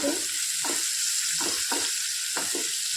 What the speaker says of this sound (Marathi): तो कांदा फ्राय करून घेऊ